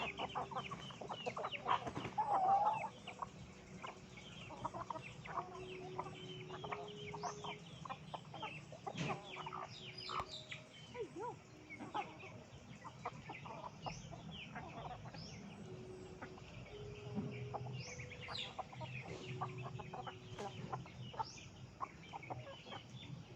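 Chickens clucking around a rooster in a farmyard, with repeated short clucks and calls over steady background murmur, one louder burst near the start.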